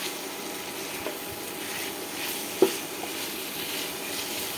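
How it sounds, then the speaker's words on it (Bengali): Pumpkin is stirred and fried in a pan, producing a soft, steady sizzle with a few light scrapes and one sharper clink of a utensil partway through. "ভালোভাবে নেড়ে চেড়ে ভেজে একটু করে নামাই নেব।"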